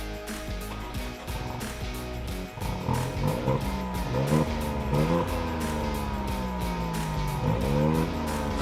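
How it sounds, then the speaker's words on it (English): Tata Altroz Racer hatchback revving with a throaty exhaust note, the engine rising and falling in several repeated blips, close and fairly loud, with no talk over it. "the Tata Altroz Racer over here, is the exhaust note, because it sounds really very throaty"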